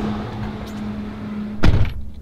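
A car door on a Ford F350 dually pickup thuds shut once, close and solid, after a steady low idle hum from the nearby truck.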